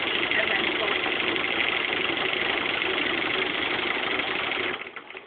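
A sewing machine quilts a T-shirt quilt with a steady, loud, continuous mechanical whir that runs close and unbroken, then trails off at the end.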